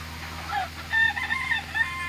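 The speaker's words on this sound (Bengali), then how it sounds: "এই যে আমার মুরগিগুলো দেখেন।" Chickens on a small poultry farm making short high cackles and clucks close by, with a faint, steady background hum underneath.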